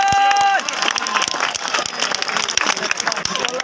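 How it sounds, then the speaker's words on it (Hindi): A crowd claps hands in a noisy burst of applause at a street celebration of a PTI election win where halwa is handed out. Dense, uneven clapping runs throughout, and a brief tonal sound precedes it at the start. "ताली मारो"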